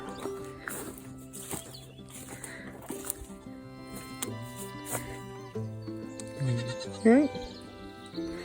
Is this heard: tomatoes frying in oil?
no